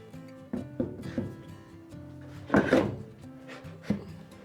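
Metal conduit being pushed through a stack of plywood in a small shop, a few scraping, rubbing knocks of wood and metal, close and irregular, with one louder grinding scrape near the middle.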